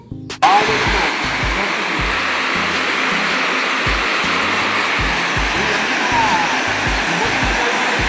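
Gundala waterfall in Telangana roars as a dense, continuous rush of falling water, loud and close, kicking in sharply after a brief quiet opening and holding steady throughout.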